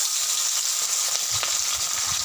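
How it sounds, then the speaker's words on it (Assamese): Small fish frying in hot mustard oil in a pan, a steady, loud broadband sizzle that holds throughout without any talking. "মিঠাতেলখিনি গৰম হ'লে মই মাছখিনি ইয়াত ভাজি ল'ম।"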